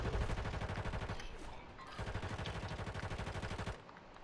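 Rapid automatic gunfire in a video game shootout, two sustained bursts of loud, close rattling shots separated by a brief pause, cutting off sharply at the end.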